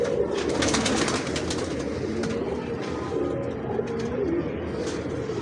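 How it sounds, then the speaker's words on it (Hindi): Large ringed pigeons coo in a low, continuous warbling murmur, several birds overlapping at close range with a steady hum of background noise and no talk. "बड़े बड़े कबूतर आपने देखे होंगे रिंगदार"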